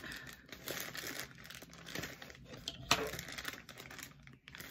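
A parcel is opened by hand at close range, with continuous rustling and crinkling of packaging, small tearing and scratching noises, and one sharp click partway through.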